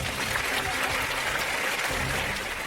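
Studio audience applause at a university quiz show for the Kenyatta University team, a steady wash of clapping at moderate level lasting a few seconds without talk.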